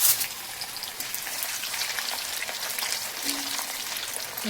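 Potato slices frying in hot oil give a steady, dense crackling sizzle throughout, moderately loud and close, with no voices over it.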